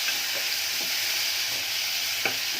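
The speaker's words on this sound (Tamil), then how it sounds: "வாழைப்பூ, இறால், வெங்காயம், கருவேப்பிலை, பச்சை மிளகா, மசாலா எல்லாம் போட்டு ஆக்குறேன்" Banana flower and prawns cook in a pan with onion, curry leaves, green chilli and masala, giving a steady close sizzle broken by a few soft scrapes and taps of stirring.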